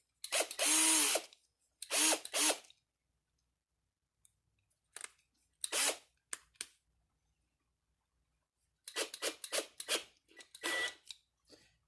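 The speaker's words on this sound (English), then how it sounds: "we're going to take a drill and a 5/64 bit." A handheld drill with a 5/64 bit bores into brass fittings on a muzzleloader ramrod in short, close bursts, about five separate runs with quiet gaps between them.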